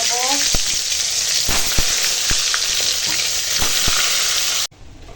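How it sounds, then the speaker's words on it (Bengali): Eggplant slices frying in hot oil left over from frying ash gourd, a steady loud sizzle with scattered pops and clicks throughout, cutting off abruptly near the end. "এখন ওই তেলেই দিয়ে দেবো বেগুন ভেজে"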